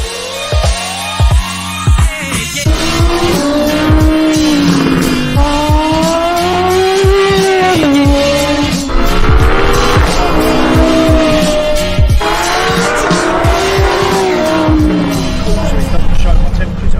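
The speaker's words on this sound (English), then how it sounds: "we're gonna take you guys along for the very first drive at Anglesey in the new GT3" A new Porsche GT3 laps the Anglesey race circuit, its engine loud and close as it revs and climbs through gears, with tires squealing in corners and a person talking over the car throughout.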